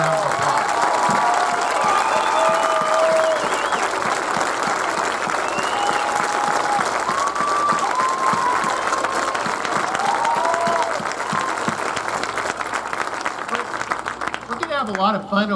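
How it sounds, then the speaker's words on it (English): Sustained applause from a large crowd at a nursing pinning ceremony, loud and continuous, with scattered cheers, tapering near the end. "let's give them an incredible round of applause."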